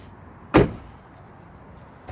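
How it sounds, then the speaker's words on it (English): A car door shuts with a single solid thud, close and sharp, followed by quiet and a faint second knock near the end. "Then when you close the door,"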